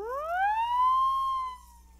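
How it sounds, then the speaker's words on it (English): A single police siren wail, a silent-film-era sound effect, rises steeply in pitch, holds, then begins to fall, loud and clear against a quiet background. "You would have police sirens and during chase scenes."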